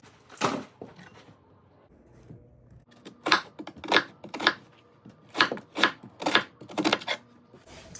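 Vegetables are chopped with a knife on a board: crisp close chops land in uneven bursts, some quick runs of several strokes and a few single cuts, with no talk.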